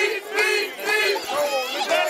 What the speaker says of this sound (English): the crowd is rocking and shaking the tripod here